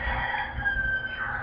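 A rooster crows once in a drawn-out, fairly distant call over faint outdoor background noise in a residential area in the Philippines.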